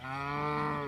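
A single Breton cow lets out a long, steady, resonant moo, close and alone, held for just under a second.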